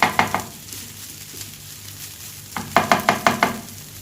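Fried rice with shrimp paste chili sauce, egg, carrot and cucumber being stir-fried in a pan over low heat: bursts of scraping spatula strokes with a soft sizzle underneath, then a quieter stretch before a rapid run of four or five strokes.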